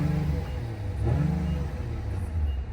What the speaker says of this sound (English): It definitely sounds like a Honda for sure.